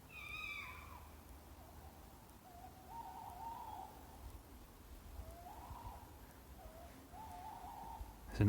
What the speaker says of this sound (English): There's an owl screaming at us somewhere up there.